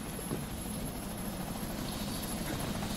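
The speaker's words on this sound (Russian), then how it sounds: "Вертушка, слышишь, да? Вертушка." Helicopter in the video game Deadlight, a steady rotor thrum and engine drone held at a constant level throughout, with no talk over it.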